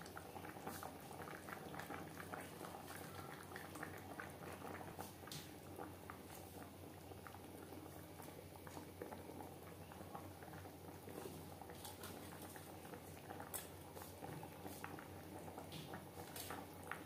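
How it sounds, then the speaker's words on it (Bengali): A rui fish curry with data stalks and potato bubbles steadily in a pot, a dense, even simmer of small pops and gurgles that carries on without pause, close and fairly quiet. "ফুটে ওঠা পর্যন্ত অপেক্ষা করব।"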